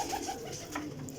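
Pigeons in a champion breeder's loft, about twenty pairs to a compartment, coo softly and repeatedly in low, rolling calls with no voices over them.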